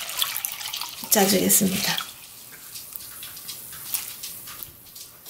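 Cold water runs from a kitchen tap as chives are rinsed for dumpling filling. A short, close gush of splashing water comes at the start, then thinner trickles and drips while someone talks.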